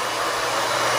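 A hair dryer blows with a steady, loud whooshing hiss, close and unbroken throughout.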